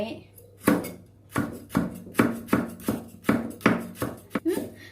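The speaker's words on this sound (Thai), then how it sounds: "เสร็จแล้วพี่ตุกก็จะหัหั่นตะไคร้" A knife chops lemongrass on a board for a fresh Thai shrimp salad, about a dozen crisp, close thuds in an uneven but steady rhythm.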